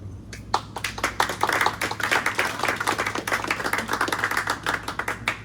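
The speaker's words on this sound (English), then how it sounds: "If you clap, it's gonna slow the whole thing down." An audience claps at a poetry reading, a lively burst of many hands that starts quickly and keeps up a dense, uneven patter for several seconds.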